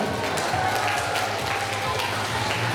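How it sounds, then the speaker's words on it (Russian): Audience applause in a concert hall at a talent show as contest participants walk onto the stage: a continuous, even wash of many hands clapping, held at a steady level throughout. "Всех участников конкурса быстренько приглашаем на сцену под ваши аплодисменты."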